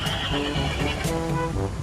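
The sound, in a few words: horse in a PlayStation video game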